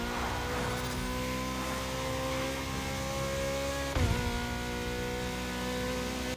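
A Ferrari SF90 hypercar's engine drones steadily, a smooth sustained tone with a brief surge of revs partway through before settling back to an even hum.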